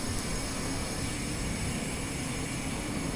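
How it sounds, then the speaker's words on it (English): Steady broadband hiss of air rushing through train brake lines over a low rumbling train interior in Train Simulator Classic, constant and fairly loud throughout, no speech. "You can hear the air going through the brake lines."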